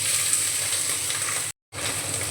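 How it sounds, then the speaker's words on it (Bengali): Freshwater snails (gedi) frying in hot mustard oil in a kadai, a steady loud sizzle with a brief silent break near the end before the hiss resumes. "ভালো করে এখন ভেজে নেব গেঁড়িগুলো।"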